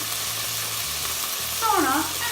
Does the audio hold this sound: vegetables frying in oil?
yes